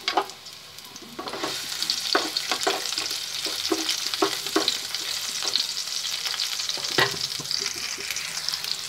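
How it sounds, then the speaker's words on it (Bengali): Chopped onion, garlic and ginger fry in a pan, giving a constant close sizzle broken by repeated scraping stir strokes and clinks of a spatula, with no talking. "এখানে আমি পেঁয়াজ রসুন আর আদা কুচি এর মধ্যে দিয়ে দিলাম। দিয়ে আমি একটু ভাজা ভাজা করে নেব"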